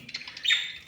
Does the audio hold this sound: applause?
no